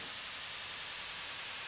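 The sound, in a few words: downlifter sound effect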